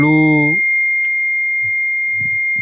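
Electronic buzzer on the temperature controller of a household biomass water heater, a loud steady high-pitched tone sounding continuously, with brief speech and a short harmonic voice at the start.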